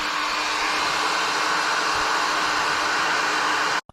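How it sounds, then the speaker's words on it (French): A heat gun blows a steady, loud roar of hot air while warming a crankshaft bearing on a Peugeot 103 moped, continuous and unbroken until it cuts off abruptly near the end. "Donc moi, je le fais au décapeur thermique"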